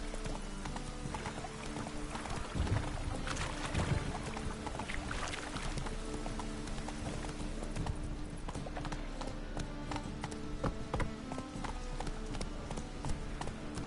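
Horse hooves clip-clopping at a steady trot in The Witcher 3, loud and continuous over a low rumbling game ambience, with no talking.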